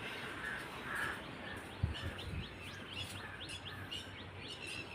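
Crows cawing as they chase off a monkey among trees, repeated harsh calls at moderate distance over a steady outdoor background hiss, with one short nearby thud.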